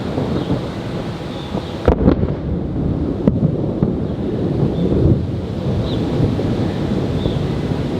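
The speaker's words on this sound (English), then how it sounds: "Rain's starting to pick up." Steady rain and gusty wind in Celebration, Florida, with a sharp crack of thunder and a second rumble, loud and close, the downpour continuing throughout.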